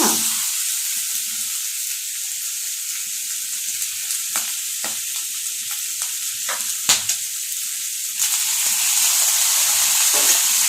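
Liver and tomato fry in a hot pan with a steady, close sizzle and hiss, broken by a few sharp stirring clicks and scrapes, no voices.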